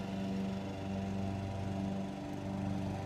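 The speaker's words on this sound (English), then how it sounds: "I got a chunk of 2x2 trailer axle in there. First cut." A saw running steadily as it makes its first cut through a chunk of 2x2 trailer axle, with coolant in use: a continuous close motor drone with a tonal hum and no talk.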